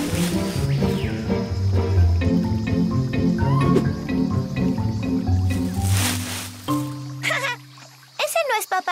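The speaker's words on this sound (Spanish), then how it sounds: "¡Ese no es Papá Jungla! ¡Es un mono!" Squeaky cartoon monkey chatter from the bushes in a children's animated show, a few short high calls near the end after a stretch of loud orchestral music.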